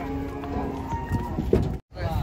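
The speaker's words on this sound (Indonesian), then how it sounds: "Bahaya tipe-tipe sapi ngamuk ya." A raging bull lets out a loud, drawn-out moo close by, followed by shuffling hoof sounds and a brief cutout near the end.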